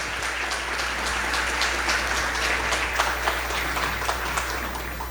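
Audience applauds to welcome William Douglas, a judge, at an evening event: a loud, sustained, even wash of many hands clapping over a low steady hum.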